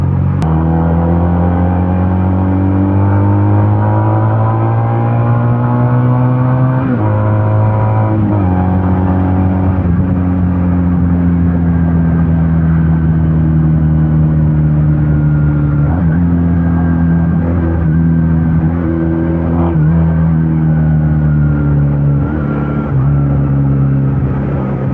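Benelli Patagonian Eagle 250 motorcycle engine under way, a steady loud drone with rising and falling pitch as the rider accelerates and shifts gears several times, continuous and close throughout.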